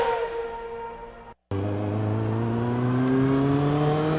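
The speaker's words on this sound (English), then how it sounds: "Give your bike a rev, then put down your visor." Motorbike engine revving on a city street ride, a steady loud drone with rising harmonic tones, cut by a brief silent gap before the engine returns louder and climbs steadily in pitch.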